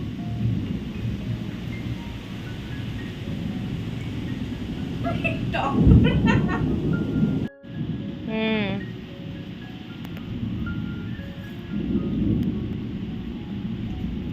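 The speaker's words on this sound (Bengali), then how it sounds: "বৃষ্টি শুরু হয়েছে ঝড় হচ্ছে" Low rumbling thunder rolls beneath steady rain, with a brief murmured voice and some scattered clatter partway through.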